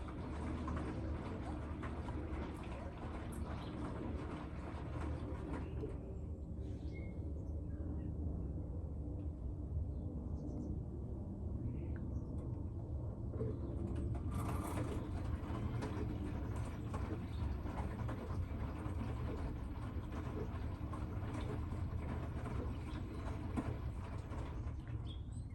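A Beko bPRO500 10kg washing machine runs with a constant low rumbling hum and steady mechanical whir, faint and continuous, with light clicks and watery noise partway through.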